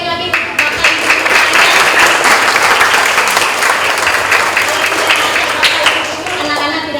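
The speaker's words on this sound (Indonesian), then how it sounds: "Tepuk tangan sekali lagi untuk Bapak Ibu guru." Loud, steady clapping from a crowd at an Indonesian elementary school graduation and farewell, applauding the teachers once more. The applause stays full for the whole stretch, with amplified voices faintly audible at the edges.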